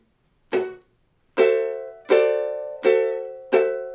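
Ukulele strumming a D seventh chord in a triplet rhythm, five bright strums in a row, each ringing out and decaying before the next, played alone and close.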